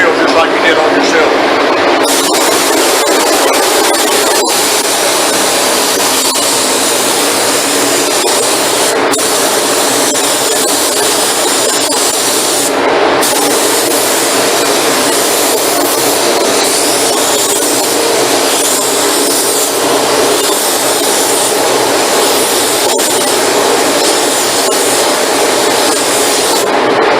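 A spray gun lays a top coat finish onto a wooden piece, giving a loud, steady hiss that runs unbroken for nearly half a minute with small pauses and clicks.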